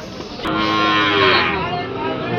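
A cow at a busy cattle market in Ambari, Dinajpur, gives one loud, drawn-out moo close by over a hum of crowd noise.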